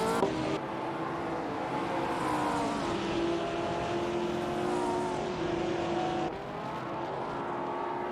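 Several 1950s sports race cars in a racing simulator game accelerate and whine steadily, engine tones rising and shifting through gears in a continuous loud drone with a brief dip near the end.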